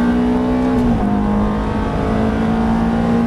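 A Ferrari F430 engine roars at high, steady revs on a race circuit, with a brief dip as the gear shifts to fourth, loud and close from inside the car.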